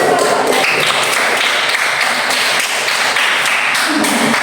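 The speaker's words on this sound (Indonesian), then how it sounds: "Tepuk tangan." A classroom full of students claps together in a dense, continuous burst of applause, loud and steady throughout, with no voices standing out.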